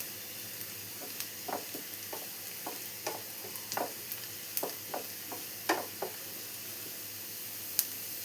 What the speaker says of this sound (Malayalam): ഇത് നന്നായി ഒന്ന് ഫ്രൈ ചെയ്തെടുക്കണം.